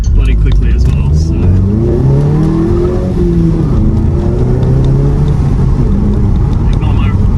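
A 2018 Volkswagen Golf GTI Mk7.5 engine revs and accelerates hard, rising in pitch through gear changes, loud and close, with a voice talking faintly over it.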